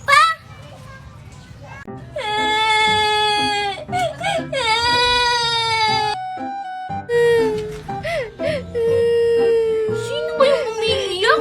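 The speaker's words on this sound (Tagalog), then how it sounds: "Sino ba yung umiiyak? Ang ingay-ingay naman." A young child cries loudly in long, wailing sobs with whimpering breaks, the crying carrying on for several seconds amid brief moments of quieter pause.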